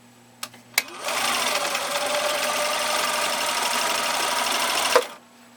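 A Husqvarna Viking 4010 sewing machine stitches through ten layers of heavy-grade denim, a steady close whirring hum running about four seconds after two brief clicks, then stopping abruptly.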